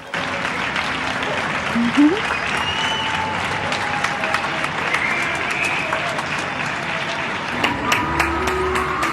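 A crowd claps and cheers from apartment windows in a city centre to honour doctors, a steady wash of distant applause with a few shouts, echoing between buildings.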